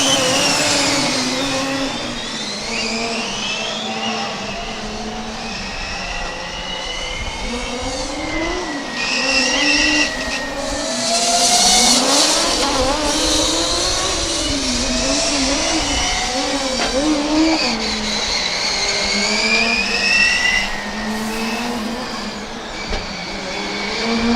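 Formula Student race cars lapping during an endurance event, several high-revving engines whining and shifting pitch as they pass, loud and continuous with overlapping cars near and far.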